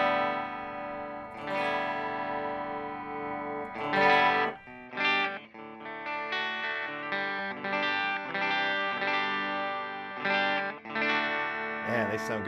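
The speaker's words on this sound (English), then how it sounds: "See if we can get some clean tones out of here." Clean electric guitar chords and single notes ring out through an amp, played in bursts with sustained tones and a slight shimmer, no talking.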